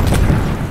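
A cartoon bomb goes off with a loud, dense boom that fills the whole brief moment with rumbling noise, close and overwhelming, with no voices over it.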